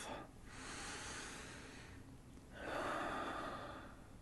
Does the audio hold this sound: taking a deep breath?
yes